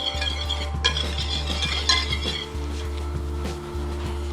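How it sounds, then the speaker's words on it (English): Seasoning of salt and pepper being whisked together in a bowl, giving quick, steady clinking and scraping of a utensil against the bowl over a low steady hum, close by and with no talking. "We gotta whisk that together."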